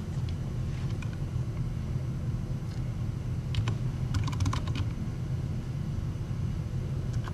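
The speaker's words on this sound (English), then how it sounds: "And now I'm going to type in code." Typing on a computer keyboard, with a few clusters of light key clicks over a steady loud rumbling hum.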